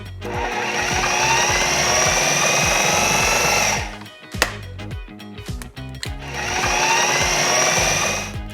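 An electric mixer blends eggs into keto cheesecake batter, a loud steady whir that stops for a few seconds of clatter and scraping, then starts up again, close by.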